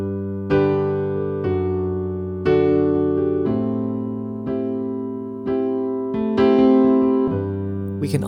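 A piano plays a chord pattern, each chord in the right hand preceded by a low A bass note, sounding as a steady series of sustained, ringing chords that decay between strikes.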